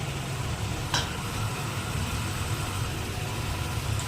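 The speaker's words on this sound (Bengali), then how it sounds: "কষিয়ে নিচ্ছি। অনবরত মানে মাংসটাকে নাড়াতে হবে" Chicken pieces with lemon and a splash of water sautéed and stirred in a pan, giving a steady, continuous sizzle with a faint scrape near the start and no talking.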